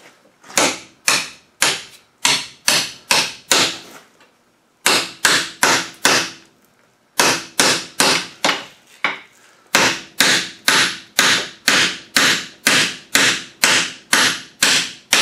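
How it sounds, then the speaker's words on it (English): Loud, sharp metallic hammer strikes in rapid steady runs, close by, with brief pauses between bursts of blows, as a bolt is hammered into place during motor installation on a vehicle. "install the bolt so finely with this hammer"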